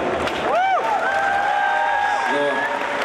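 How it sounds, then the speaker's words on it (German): Audience applause for Nelly at a live show, a steady wash of clapping and crowd noise running throughout, with a sustained whoop-like voice riding over the middle. "Hier nochmal großen Applaus für Nelly"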